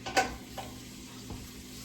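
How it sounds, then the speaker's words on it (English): A spoon stirs a bone-in butter chicken stew seasoned with paprika and red chili powder, a few soft scrapes and clinks against the pot over a low sizzle, fairly quiet and close. "Now I'm going to stir this."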